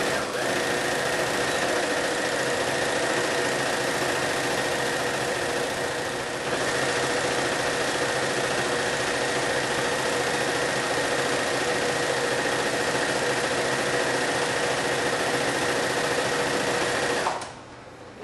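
A sewing machine stitches fabric tube socks together, whirring steadily and loudly up close for about seventeen seconds with a brief dip midway, then stopping.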